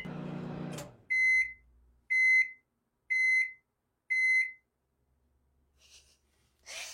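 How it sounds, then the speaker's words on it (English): A microwave oven gives four evenly spaced, loud electronic beeps, each short with a clean pure tone, after a brief burst of speech at the start; faint clicks and a soft rustle follow in the quiet afterward. "Just blink with the microwave's beeps."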